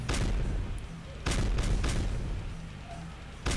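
Creepers explode in Minecraft, several booming blasts striking in quick succession. Each leaves a long rumbling tail, so the bursts overlap into a loud, continuous roar with no talking.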